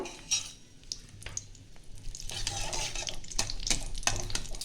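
Dried red chillies and bay leaves frying in hot white oil in a kadai, a steady close crackle with scattered sharp pops and a few clinks of a spatula against the pan.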